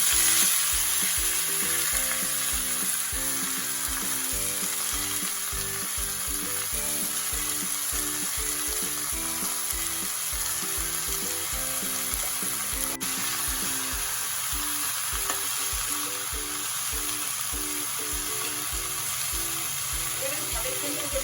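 Red amaranth greens frying in a pan with ginger and garlic, a steady close sizzle with rhythmic scraping and stirring strokes throughout.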